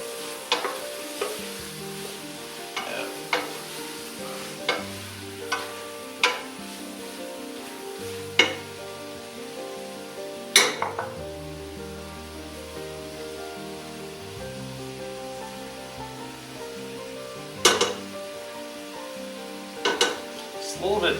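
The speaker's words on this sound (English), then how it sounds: "it's all going to simmer together" Coq au vin ingredients sizzle and simmer steadily in a pan, while a utensil stirs and scrapes at intervals, producing sharp clinks and knocks over the continuous frying hiss.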